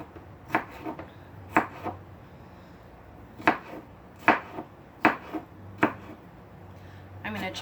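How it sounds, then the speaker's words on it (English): A knife chopping ingredients into fine pieces on a board for avocado shrimp salad. The sharp, close taps come in small irregular clusters separated by short pauses. "I'm going to chop it in fine pieces."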